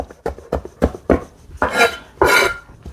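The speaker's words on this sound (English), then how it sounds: "I'm just going to just chop it up very randomly" A knife chops fresh cilantro on a cutting board for pico de gallo, with steady rhythmic thunks of several quick strokes followed by two longer scraping, gathering sweeps, close and clear with no talking.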